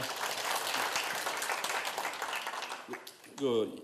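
Audience applause, dense steady clapping filling the room, fading near the end as a voice briefly cuts in.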